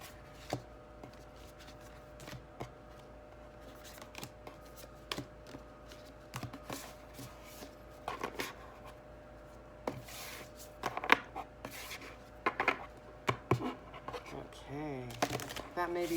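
Playing cards are shuffled by hand in a quiet room, giving soft riffling and scraping bursts that grow busier toward the end, with a person talking intermittently.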